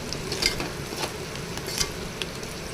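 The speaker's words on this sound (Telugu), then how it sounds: "గోధుమ రంగు వచ్చే వరకు వేయించాలి." Onions frying in a tempering of oil and salt in a clay pot, giving a steady close crackling sizzle with a few brief stirring scrapes.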